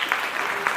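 A brief burst of applause from attendees at a women's equality leadership council meeting, a steady wash of clapping heard only for a moment.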